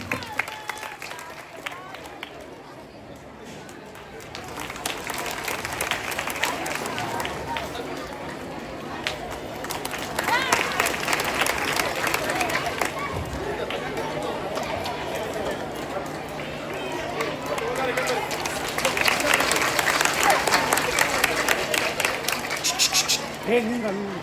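An audience at a government school Children's Day program in Haliyal claps for students. The applause swells in two waves of dense, rattling clapping over a murmuring crowd, with voices heard throughout.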